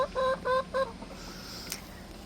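A broody backyard hen in a garden gives three short, clear clucks in quick succession, fairly close, followed by quiet outdoor ambience.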